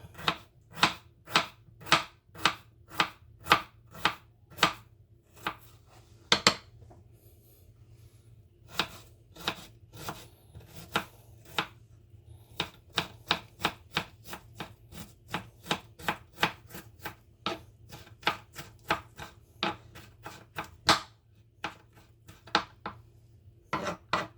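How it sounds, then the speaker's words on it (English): A knife chops peeled tomatoes on a board in a home kitchen, with steady rhythmic sharp knocks in quick runs broken by brief pauses, close and clear with no talking. "Now we're just going to chop them up."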